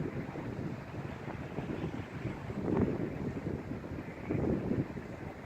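Strong storm wind buffeting the microphone outdoors as a storm builds, a steady low roar with two heavier gusts swelling partway through, no talk.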